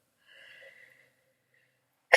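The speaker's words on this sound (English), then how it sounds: "I have to sneeze." A single sharp human sneeze bursts out suddenly, loud and close, after a faint, breathy inhale and a short quiet pause.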